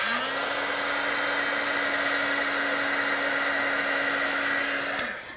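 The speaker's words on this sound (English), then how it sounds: "then I'm going to turn my heat gun on, and this is what it looks like" An electric heat tool blows a steady, loud whirring hiss with a constant motor whine for about five seconds before it clicks off and the whine winds down.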